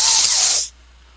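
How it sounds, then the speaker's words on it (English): A broadband spray-like hiss fills the first half-second and then cuts off abruptly, leaving near silence; a short, loud burst with no talk over it. "Did you hear that? The hissing?"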